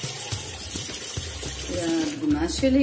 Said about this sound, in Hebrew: מציפה טיפה מים